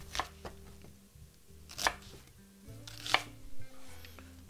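Knife chopping an onion into small squares on a cutting board, a few sharp, distinct chops spaced about a second apart, close and alone without talk.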